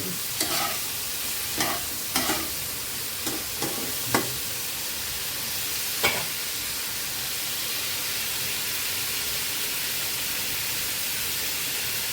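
Potatoes and tomatoes sautéing together in a pan give a steady close sizzle, broken early on by several scraping stirs of the spoon before the frying settles into an even hiss.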